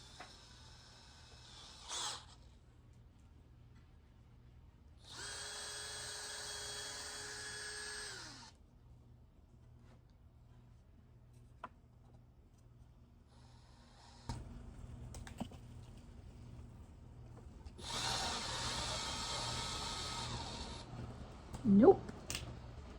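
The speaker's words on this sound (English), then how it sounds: "I'm gonna go ahead and pre-drill my holes all four at once" A power drill pre-drills holes in scrap wood for a pet condo. It whirs in two long bursts of steady high-pitched spinning, each lasting a few seconds, with quiet handling sounds between them.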